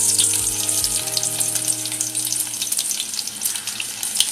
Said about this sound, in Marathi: लसूण चांगली अशी लाल व्हायला द्यायची आहे